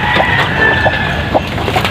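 Native hens cluck and murmur close by in short, repeated bursts over a busy farmyard background, with no talking.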